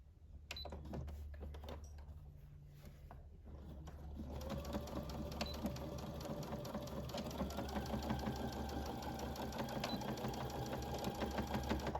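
A sewing machine stitches a scrub top, a rapid mechanical whirr with fine clicking. It starts faintly, then grows into continuous close stitching with no voices.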